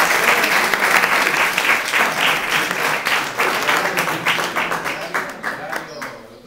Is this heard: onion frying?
no